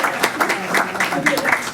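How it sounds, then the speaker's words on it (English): Board of education meeting audience applauds briefly, a short burst of clapping mixed with talking in the room. "Let's give them another round of applause."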